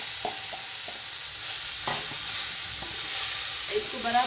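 Poha with turmeric, green chilli and sugar stirred in a pan over a steady soft sizzle, a spoon scraping and tapping at irregular intervals, close up with no voices.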